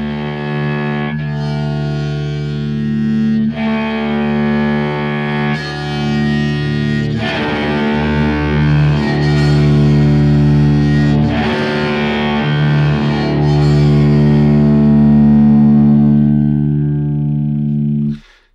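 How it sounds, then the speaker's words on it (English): A bowed electric cellotar drones through a distorted amp simulator, sustained raw notes swelling and changing pitch, loud and reverberant before cutting off. "that is the sound just on its own, just going through one of the amp sims with a touch of distortion on"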